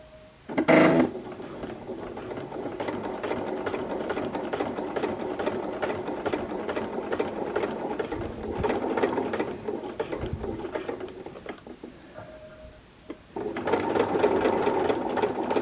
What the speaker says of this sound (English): sewing my collar now.